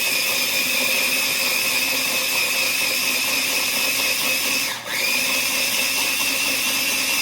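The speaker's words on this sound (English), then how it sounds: "let's puree this up" An electric blender purees a rhubarb dressing, a loud steady motor whine that dips briefly near the end as the blades catch, then resumes, no talk.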